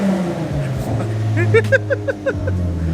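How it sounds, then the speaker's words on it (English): A Nissan G35's engine revs in several short bursts over a low idle, each rise quick and loud, close by. "Just has to rev his engine"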